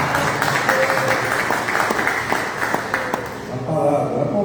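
Applause from a church congregation during a worship service, a steady dense wash of clapping filling the room, with a voice speaking briefly near the end.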